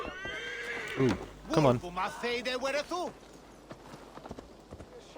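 A horse in Assassin's Creed Valhalla lets out a loud, drawn-out whinny, then its hooves clop in a running rhythm that fades toward the end; a person briefly speaks.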